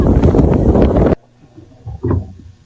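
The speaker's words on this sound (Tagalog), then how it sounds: "Lakas ng hangin, guys." Strong gusting wind buffets the microphone with a loud, dense roar for about a second, then cuts out, leaving quieter rumbles and a brief muffled swell.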